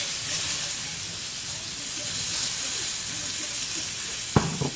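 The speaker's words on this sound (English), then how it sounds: "this is 3 black plums sliced thinly that goes in the pan" Three thinly sliced black plums sizzling in a frying pan, a steady close hiss and crackle that keeps going, with a brief knock near the end.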